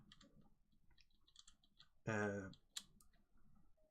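Keyboard keys with an unlubed stabilizer insert produce a few close clicks and a rattly clack, with brief speech partly overlapping.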